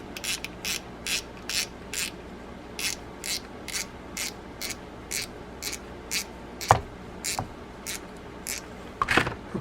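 A Penn Battle II spinning fishing reel, freshly rebuilt with new gears, is cranked steadily, giving a close, evenly spaced run of light ticking clicks with a few sharper knocks near the end, and no speech.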